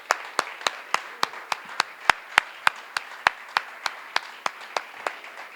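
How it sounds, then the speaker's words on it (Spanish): Sparse, evenly spaced hand claps ring out one at a time at a lecture, a single clapper or a few people keeping a steady, sharp rhythm of about four claps per second, close and distinct with quiet gaps between. "para quien también pido un cálido y caluroso aplauso"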